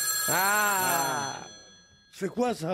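Mobile phone ringing with a bright electronic tone for about a second, followed by a short spoken question and then brief chiming bursts of the ring again.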